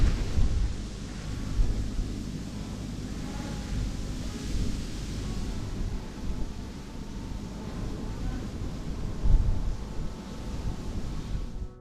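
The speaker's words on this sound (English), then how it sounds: "these reeds and grasses make the most beautiful, beautiful noise. The wind has many voices, and today it's the reeds that are speaking for the wind" Wind rushes steadily through lakeside reeds and grasses at a lake in the Brecon Beacons, Wales, a loud, continuous roar with gusty swells and buffeting on the microphone.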